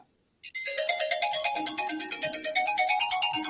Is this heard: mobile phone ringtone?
yes